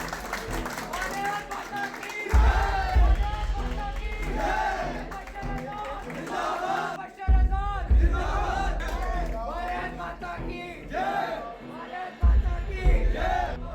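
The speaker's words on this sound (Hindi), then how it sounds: "जोरदार तालियों के साथ" Crowd at a political event in Jammu and Kashmir cheering loudly with bursts of clapping and shouts, voices booming over a busy, surging hubbub.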